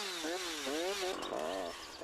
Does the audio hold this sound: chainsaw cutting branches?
yes